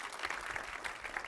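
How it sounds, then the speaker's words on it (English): A brief burst of audience clapping for a speaker at a tech talk, fairly soft and even, with a few sharper individual claps. "Big round of applause."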